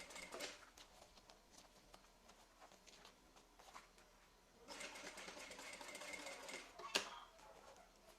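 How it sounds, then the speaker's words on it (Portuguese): A sewing machine topstitching along a zipper runs in quiet bursts of rapid, buzzing stitching, with a louder stretch midway and a sharp click near the end, heard close and faint. "E aí vamos passar aqui o pesponto"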